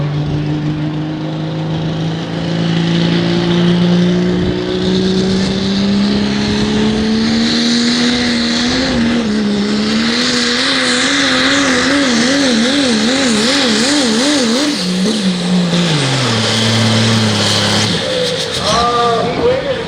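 A pro stock diesel pickup truck pulls a sled at a tractor pull in Monroe, Wisconsin, its engine roaring loud and near, climbing in pitch and then wavering and dropping as it bogs down, with a voice talking over it.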